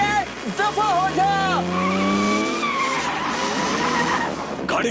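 Car tires screech in a long, loud skid as the vehicle swings around in a Hindi-dubbed Hollywood action movie scene, with engine noise and voices mixed in underneath.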